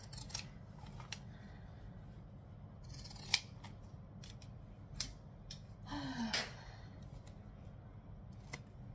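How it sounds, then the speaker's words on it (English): Scissors snip through fabric while a saddle bag is trimmed for sewing, with a blade that has one blunt tooth. Several sharp, close, irregular cuts with pauses between them and one longer, grinding cut. "I am fighting with my scissors."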